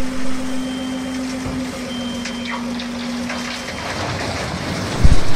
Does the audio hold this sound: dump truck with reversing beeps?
yes